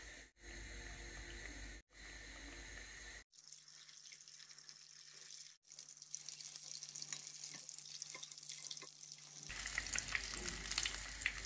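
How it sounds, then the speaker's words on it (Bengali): Bread-crumbed cutlets for iftar frying in a pan give a soft, steady sizzle with scattered light crackles, faint and close, starting after a few quiet seconds and growing slightly busier toward the end, with no talk. "এখন নেক্সট ওয়ান আপনারা একটু ফ্রাই কইরা নেই"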